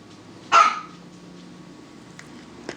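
A dog barks once, sharp and close, in a home kitchen where meat sits out on a cutting board, followed by a quiet lull with faint small noises.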